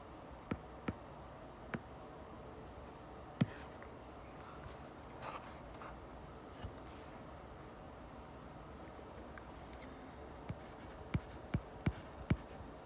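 A pen scratches across paper while someone fills in a statistics worksheet. The quiet scratching is punctuated by sparse sharp taps, which grow more frequent toward the end.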